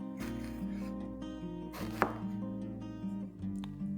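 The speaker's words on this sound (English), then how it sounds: "our first step is we're going to slice up 12 jalapenos" A knife slices through big fresh jalapeño peppers on a cutting board, making a run of close, crisp chopping taps in an uneven rhythm with one sharper knock in the middle.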